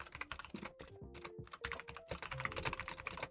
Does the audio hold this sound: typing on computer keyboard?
yes